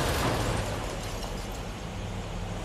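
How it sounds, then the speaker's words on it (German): A loud, sustained explosive rumble with crackling debris fills the whole stretch, dense and continuous, a blast on a London bridge in the video game Watch Dogs: Legion. "Also warum explodiert das denn?"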